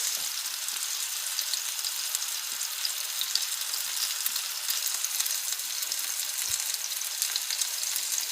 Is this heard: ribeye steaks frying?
yes